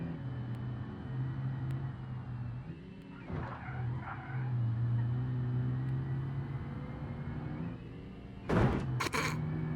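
A small 77-horsepower car engine hums steadily at low pitch while driving, a quiet sustained drone with a brief dip, then a couple of sharp thuds and scrapes near the end.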